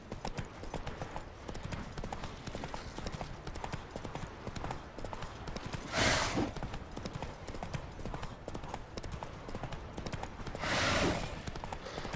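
A horse gallops in The Witcher 3 game, steady rhythmic clip-clop hoofbeats running throughout at a moderate level, with two brief rushing swells of noise and no voices.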